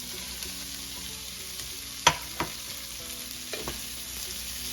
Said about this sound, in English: Stir it up a bit and get a little bit of that bacon goodness on all this cabbage.